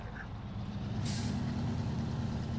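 Air brake hiss on a truck in the video game SnowRunner, a sudden bright burst about a second in, over a steady low engine rumble.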